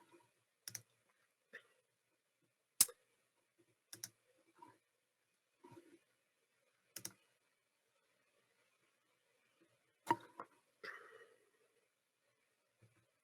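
Sparse mouse clicks, single and doubled, sound close and crisp at irregular intervals with quiet gaps between them while working in FME 2020 software.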